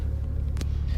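A car engine runs at idle on a quiet byway, a steady low rumble close by with a brief soft click partway through and no voices.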